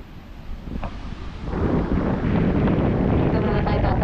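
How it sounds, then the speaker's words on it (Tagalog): Strong wind blows at the seashore, buffeting the microphone and building from a moderate rumble to a loud, steady roar. "Mahangin."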